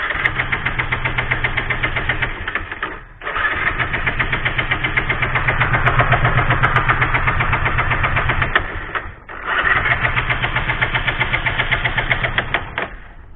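A Bajaj Pulsar motorcycle with an ignition fault is cranked with the starter, producing a rapid, rhythmic whirring and knocking that runs in three long bursts with short pauses and never catches, loud and close.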